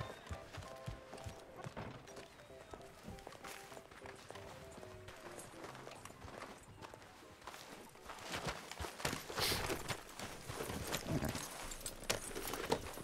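Horse hooves clip-clop in a steady ridden gait in the Red Dead Redemption 2 western game, close and continuous, with scattered ambient sounds and a brief voice faintly underneath.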